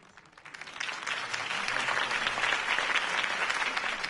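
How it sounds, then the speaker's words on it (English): A crowd breaks into applause after a campaign speech for Harvey Dent, the clapping swelling from light to a dense, sustained ovation. "If only Mr. Wayne, my campaign's largest backer, could have heard that applause"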